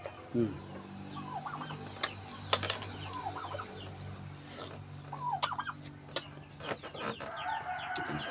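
Turkeys gobbling nearby in repeated bursts, mixed with clucking fowl and sharp clattering knocks, against a steady low hum.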